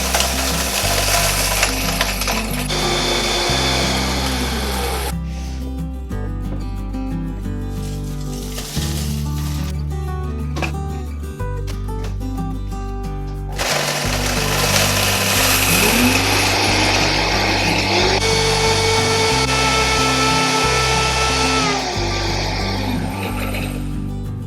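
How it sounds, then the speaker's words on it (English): A Vitamix blender with its dry container grinds dried eggshells into fine powder, a loud, harsh motor whir that runs in several bursts with short pauses and shifts in pitch between them. "So this is the dry container on our Vitamix. So I just use that to blend it into a fine powder."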